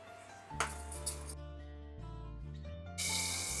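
Hot tempering of mustard, cumin, crushed garlic and asafoetida is poured into drumstick-leaf kadayal, a few clinks of a metal vessel followed by a loud hissing sizzle, close and brief.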